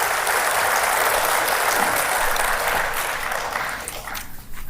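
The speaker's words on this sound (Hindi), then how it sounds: "बहुत जोरदार ताली बजा के स्वागत करें।" An audience in a large hall claps loudly and steadily to welcome the Chief Justice of India, a dense wash of applause that holds for several seconds and then thins out near the end.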